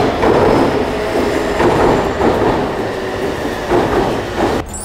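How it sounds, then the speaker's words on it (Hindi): Train at a Tokyo Station platform in Japan, a steady loud rumble of rolling rail cars with rhythmic surges, close by and without speech. "10वां प्लेटफॉर्म पर मेरी ट्रेन आने वाली है।"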